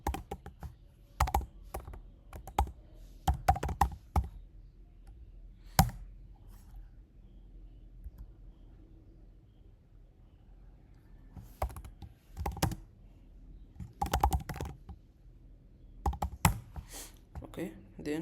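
Typing on a computer keyboard to enter an unzip command during a Raspberry Pi setup, heard as close bursts of sharp clicks separated by quiet pauses.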